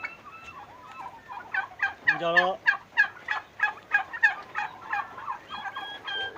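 Large royal turkey, a farm-raised breed weighing around 15 to 16 kilograms, gobbling in a loud, close series of rapid rattling bursts that repeat steadily, with one especially strong burst near the middle.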